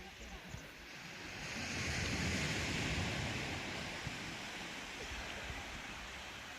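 Sea waves wash onto a beach at Grotfjord near Tromsø, Norway: a steady broad roar of surf that swells and eases, mixed with wind buffeting the microphone, continuous and fairly loud with no distinct individual breaks.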